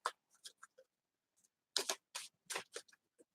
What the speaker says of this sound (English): Let's give him a real good shuffle.